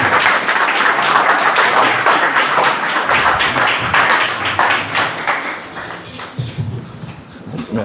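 Church congregation applauding the Lord in loud, dense, sustained clapping mixed with cheering voices, easing slightly toward the end.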